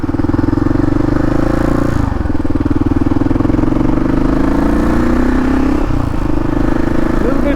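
Motorcycle engine droning steadily while riding on a cold winter road, a loud close hum that dips briefly with throttle changes and climbs again.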